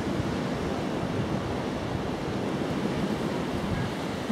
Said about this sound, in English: Wind's picking up, I notice